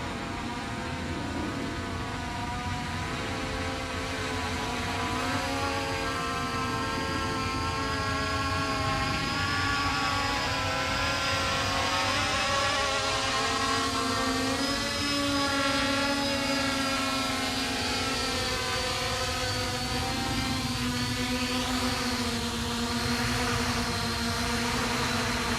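A JJRC X5 drone flies back home and comes down to land outdoors near trees, its rotors producing a continuous close, loud whine with wavering pitch that holds steady throughout.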